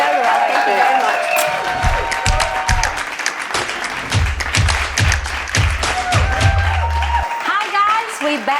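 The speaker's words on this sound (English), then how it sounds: "Clap for my guest today, guys, Mari!" A small group claps for a guest in a home kitchen during a cooking session, sharp claps rising into steady applause for several seconds. Other sounds and voices mix in underneath, and it fades near the end.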